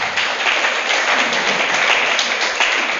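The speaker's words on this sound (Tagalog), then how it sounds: "Palakpak sa Panginoon." A church congregation applauds the Lord, giving steady, moderately loud clapping from many hands that fills a short stretch without talk.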